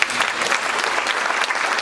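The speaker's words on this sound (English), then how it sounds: "give her a round of applause." Teachers at a first-day school assembly clap together in a brief, dense burst of applause, loud and sustained from start to finish.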